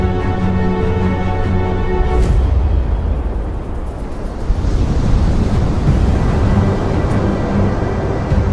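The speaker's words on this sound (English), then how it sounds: "This is Portugal, home to some of the biggest waves in the world." Big ocean waves crashing off the coast of Portugal, a loud, continuous roar of surf with heavy wind rumble on the microphone and a brief swell of breaking water midway.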